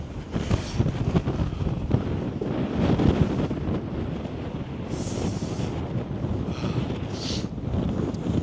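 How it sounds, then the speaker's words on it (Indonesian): Strong gusting wind on Jeju island buffets the microphone in a loud, continuous roar, with low rumbling swells and brief hissy bursts; no one speaks. "bukti betapa kencangnya angin Jeju"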